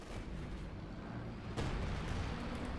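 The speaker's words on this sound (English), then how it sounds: "Panzer firing away here, and rockets firing all over the place but not hitting anything" Tank cannon and rocket fire in the Company of Heroes 2 battle game, muffled booms and distant launches rumbling under steady battlefield noise, with a sharper report about halfway through.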